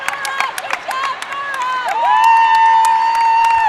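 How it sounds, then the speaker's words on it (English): Crowd cheering and shouting in an arena at a junior volleyball championship match in Las Vegas, a steady loud roar of voices with whistle-like shrieks, rising and holding fuller near the end. "Lots of cheering from the faithful here in Las Vegas, Nevada"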